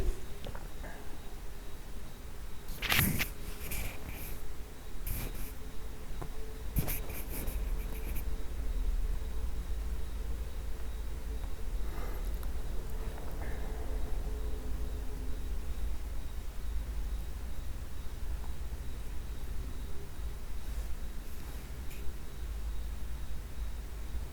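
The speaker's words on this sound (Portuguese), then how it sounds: "Vou desenhar as componentes de outra cor." Stylus strokes on a tablet while vector components are drawn, heard as a few faint scratchy taps and short swipes over a steady hiss, close and quiet, with no talking.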